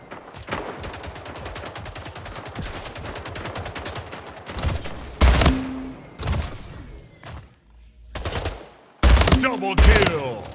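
Rail gun fire in the shooter Splitgate: rapid rattling gunfire gives way to several loud, sharp blasts spaced a second or two apart, with impacts and clatter between them.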